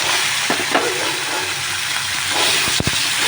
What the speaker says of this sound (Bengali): আলু ভাজাটা নামিয়ে আমি মাছগুলো ভেজে নিচ্ছি অল্প করে